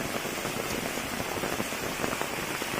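Rain falls on a Konkan village fishing spot, a dense, even patter of drops striking surfaces close by, steady and moderately loud throughout with no voices.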